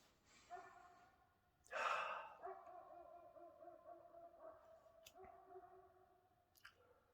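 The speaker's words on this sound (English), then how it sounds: "You can hear a wailing dog in the distance." A dog wails and barks faintly in the distance in a city, with a sharp nearby gasp or breath and low background hum of outdoor surroundings.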